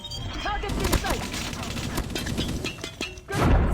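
A heavy grenade explosion booms in at the end after a stretch of rapid gunfire, crashes and clatter from Call of Duty Mobile.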